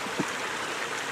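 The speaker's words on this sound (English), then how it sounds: "I could hear the river just like I hear it now" A river flows beside a sunny garden, a steady low wash of moving water running evenly and close by with no voices over it.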